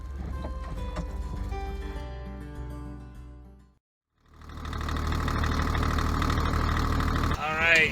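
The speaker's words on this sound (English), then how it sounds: "you probably can hear the engine running in the background." A sailboat's engine drones steadily while underway near Hiva Oa, cutting out briefly midway before returning louder with a broad, rumbling hum.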